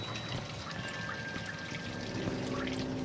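Water flows through the sewers in the Outlast horror video game, a constant pouring and trickling wash that fills the scene with faint tonal hums underneath.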